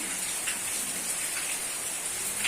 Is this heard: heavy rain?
yes